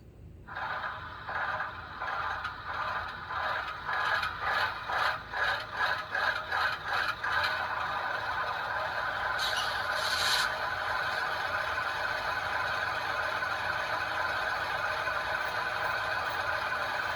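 An Athearn Genesis ES44AC model diesel locomotive whirs and rattles along a test track, starting with rhythmic pulsing chuffs that settle into a steady mechanical drone.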